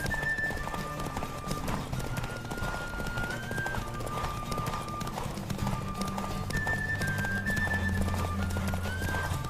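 Galloping horse hooves during a race in The Witcher 3 pound steadily beneath a musical score, with a brief whinny.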